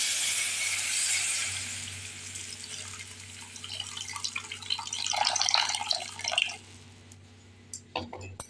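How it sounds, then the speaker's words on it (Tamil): Water with rasam powder dissolved in it is poured into a pot of rasam, a steady watery rush that turns into splashing and dripping before it trails off into a few small clinks. "இப்போ பார்த்திங்கன்னா நம்ம கரைச்சி வச்சுருக்க அந்த தண்ணியை ஊற்ற வேண்டியதான்."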